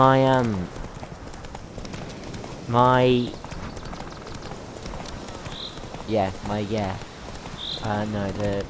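Rapid hoofbeats of a galloping horse in The Witcher 3 clatter steadily throughout while someone talks in short bursts over them.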